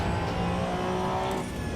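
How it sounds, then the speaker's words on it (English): A flat-six engine roars steadily in the Assetto Corsa Evo racing game, holding a loud, constant drone close up throughout with no talk over it. "We just can't hear it over the sound of this flat 6 engine."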